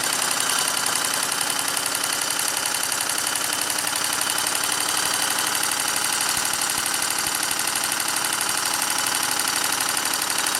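A steadily running Markie GEM road roller steam engine gives off a rapid, even ticking beat, loud and continuous throughout with no talking.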